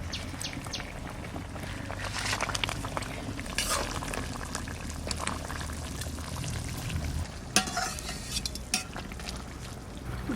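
Koi, singi and mrigal fish sizzle and crackle steadily in hot oil in a home kitchen pan, a dense continuous frying hiss with occasional louder spits and pops, close by and with no talk.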